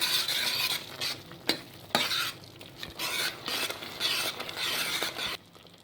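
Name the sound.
stirring pumpkin and coconut in a pan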